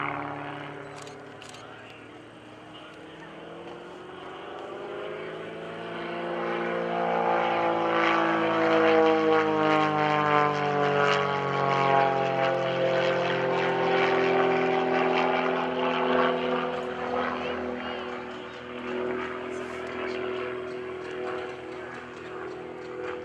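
Jason Flood's aerobatic propeller airplane at an airshow drones past as its engine note swells and falls with a sweeping pitch shift, loud and sustained, with faint crowd murmur beneath.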